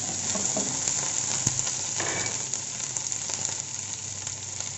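Finely chopped ginger, garlic and curry leaves fry in oil for a chicken cutlet, an even close sizzle with light stirring scrapes and one sharp click, steady throughout with no voices.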